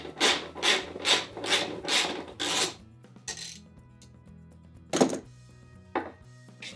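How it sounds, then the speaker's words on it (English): Bolt being backed out with a T40 bit on a Club Car Precedent golf cart: a run of six rhythmic ratcheting rasps up close, followed by quieter clicks and two sharp isolated taps. "now with my T40, we will take this bolt out."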